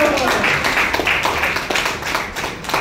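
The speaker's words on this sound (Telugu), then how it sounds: "కొట్టండి చప్పట్లు." An audience claps continuously and fairly loudly for a few seconds, a dense patter of hands from a nearby crowd.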